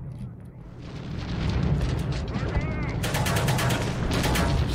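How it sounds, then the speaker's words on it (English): Repeated grenade blasts and gunfire in the Half-Life: Black Mesa shooter, a dense, loud barrage of bursts and booms that intensifies toward the end. "Stop spamming grenades, man."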